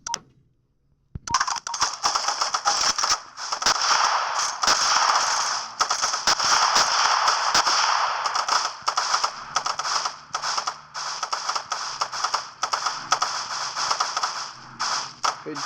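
Gunfire fills a sniper mission in the video game GTA IV: dense, rapid, crackling bursts of shots with metallic game effects run almost continuously for about fourteen seconds after a brief quiet start.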